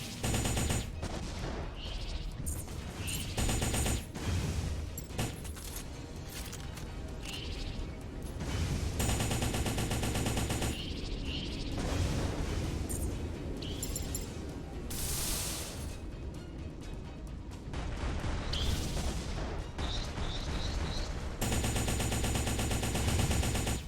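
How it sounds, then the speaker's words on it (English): Missile barrage from M.A.S.S Builder, a mech-building video game: a dense, continuous roar of rapid launches and blasts with sharp bursts, loud and sustained with no talk. "just throwing a bunch of missiles down range there"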